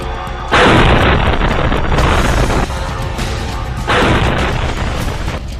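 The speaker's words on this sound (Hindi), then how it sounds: "इस बड़े धमाके ने मॉस्को तक रूस को हिला दिया था" Two massive, deep explosions from a drone strike on a building roar in succession, each with a long rumbling blast that fills the space before tailing off.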